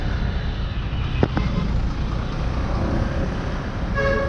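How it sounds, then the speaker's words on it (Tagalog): Morning road traffic in Manila, a dense constant rumble of engines heard from close by, with a couple of sharp knocks partway through and a brief horn-like tone near the end. "Good morning traffic."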